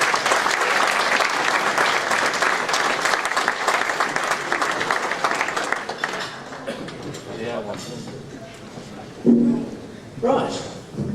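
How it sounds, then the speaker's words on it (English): Applause fills an awards ceremony hall, loud and sustained for several seconds before thinning out, then a few scattered claps and voices follow. "Give them a round of applause."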